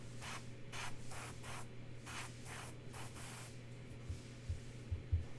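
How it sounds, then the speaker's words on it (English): Paint hisses from a single-action airbrush in several short, soft bursts of spray, faint and close, with a few light taps near the end. "So it's basically acting as a single action airbrush right now. Push down the button and paint comes out."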